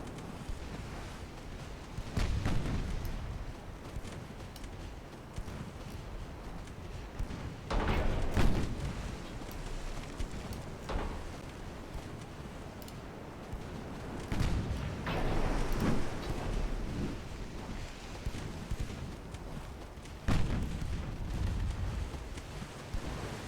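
In a naval video game, main guns fire at a heavy cruiser: several heavy booms spaced out over a constant rumbling battle din.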